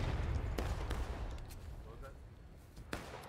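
Airsoft guns fire during a Friday night team game on a Hagerstown field, a handful of sharp, distant pops cutting through a steady outdoor rumble and background voices.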